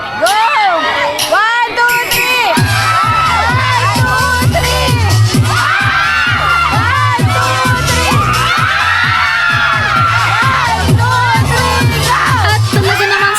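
A crowd of team-building participants at a company anniversary event cheers, shouts and whoops loudly and continuously, with children's shrieks and excited chatter mixed into the steady roar.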